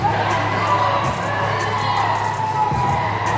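A crowd roars and cheers in an arena during a semi-final match, a loud continuous wall of voices with shouts and whoops rising throughout.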